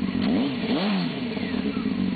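A 1998 Honda Hornet 600 motorcycle engine is blipped close up, its loud idle rising into a quick rev that swoops up and falls back, then settles into a steady rumbling idle.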